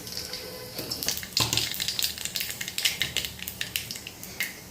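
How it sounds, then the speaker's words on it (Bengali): Nigella seeds dropped into hot mustard oil crackle and sizzle in a steady, close, bright spatter, with small popping bursts throughout. "তেলটা গরম হয়ে এসছে, এখন কালো জিরে দেবো"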